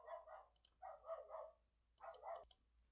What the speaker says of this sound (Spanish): Denme un segundo a que el perro deje de ladrar.